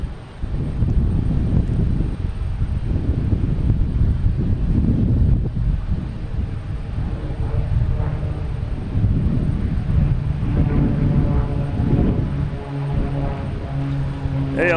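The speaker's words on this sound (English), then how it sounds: "we have a Cape Air heading to Provincetown, Cessna 402" Cape Air Cessna 402 twin-engine plane passing overhead near Boston Logan Airport, a low, steady propeller rumble muddied by gusting wind on the microphone, growing more tonal toward the end.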